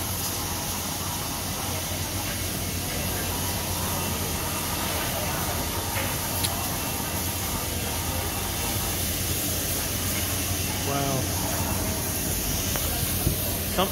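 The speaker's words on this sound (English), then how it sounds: "steam up in the front." A steam locomotive stands at Flinders Street Station, giving a steady, loud broadband hiss of steam that runs unbroken through the whole stretch, with station ambience around it and a brief squeal near the end.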